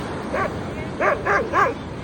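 A dog at a Candolim Beach shack in North Goa gives four short, nearby barks: one, then three in quick succession, over faint background noise.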